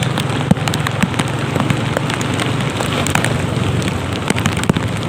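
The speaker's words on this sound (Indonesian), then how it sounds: "Ini hujan diguyur, hujan terus nih ya." Heavy, unbroken rain pours down during a journey along a muddy, potholed road, a dense wash of drumming with scattered sharper drops and splashes, loud and close throughout.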